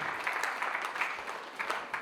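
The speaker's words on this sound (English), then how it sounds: "This time we once again applaud them as they work towards the state." Audience applause at a sub-committee gathering, a steady patter of many hands clapping throughout, moderately loud and close, with no talk over it.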